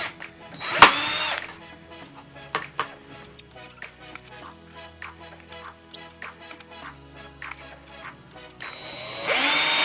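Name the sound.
power drill drilling holes in car splitter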